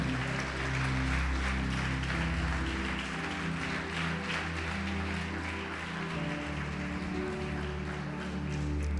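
A church congregation applauds steadily to glorify the Lord over a sustained low organ or keyboard chord, with the clapping dense and even throughout.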